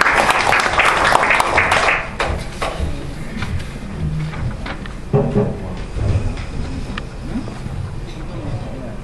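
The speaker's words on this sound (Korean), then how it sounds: "박수로 여러분들 환영해 주십시오." An audience at an international diplomacy and security forum applauds to welcome a speaker, with brisk clapping loudest at the start, then fading under a voice talking over scattered room noise.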